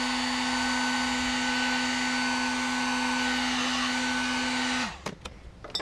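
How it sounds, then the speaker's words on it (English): Heat gun blowing steadily at close range to shrink tubing on a custom-made wire, a constant loud whirring hum that winds down and stops near the end, followed by faint handling noises. "take your heat gun, first plug it in, that works"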